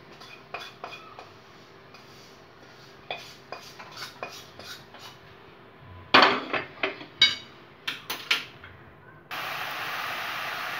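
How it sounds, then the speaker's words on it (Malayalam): Semolina roasting in ghee in a pan for pineapple kesari, heard as soft scraping and stirring with sharp metallic clinks of a spoon against the pan, irregular and close, ending in a steady hiss. "വേറൊരു പാനിൽ നെയ്യൊഴിച്ച് റവ വറക്കുക"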